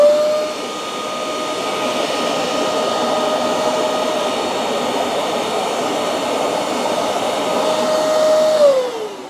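A Hoover CleanSlate Plus FH14010 carpet and upholstery spot cleaner runs close by with a loud, steady high-pitched motor whir and a thin tonal whine that droops in pitch as it powers down at the end.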